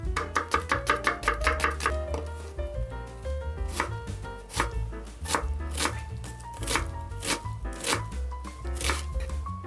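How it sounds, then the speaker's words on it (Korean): A knife chops onion on a cutting board for an aglio olio tteokbokki, with rapid, regular, close-up thuds in a steady rhythm throughout and no voices. "자, 다음은 양파를 손질해 줄 건데요."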